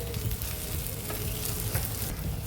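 Green banana pieces frying with spices in a pan of oil, giving a steady, dense sizzle with light stirring throughout at close range and no voices.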